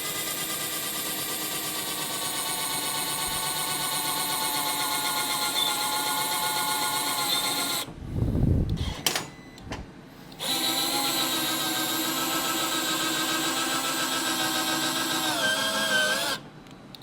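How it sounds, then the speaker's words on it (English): A cordless drill fitted with a big bit whines steadily under load for about eight seconds, stops briefly amid thumps and rattles, then drills on with a continuous grinding drone until near the end. "First, we'll put a big drill bit in it and just try some drilling."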